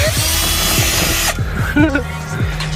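A power drill spins out screws from a handle on a Scion car, with a loud continuous whir at the start, then quieter clicks and scraping as it stops.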